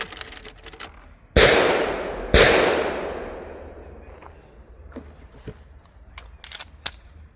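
An MPA DS9 LOC MK2 pistol fires two loud, sharp shots about a second apart at an outdoor range, each with a long ringing decay, followed by fainter clicks and handling noises.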